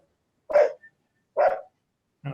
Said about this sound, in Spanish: creo que parece un perrito